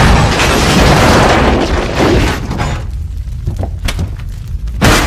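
A loud movie explosion roars as a dense, rumbling blast that slowly thins out, then swells again in a final burst near the end.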